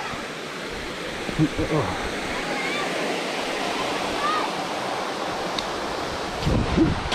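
Steady roar of a waterfall near old Roman lead mines in North Wales, loud broadband rushing water filling the whole scene, with a brief voice and a few footsteps or knocks faintly over it.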